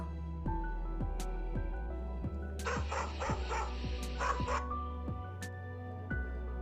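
A dog barks steadily in a regular rhythm, about a dozen sharp barks, with a brief burst of excited yelping midway over a constant background tone.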